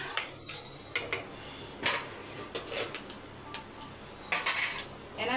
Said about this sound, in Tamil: இப்போ நம்ம இறாவை சேர்த்துடலாம்